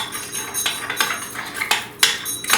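A utensil clinks and scrapes against a bowl as two ingredients for a keto Caesar chicken are mixed, with rhythmic stirring knocks repeating at close range and no voices.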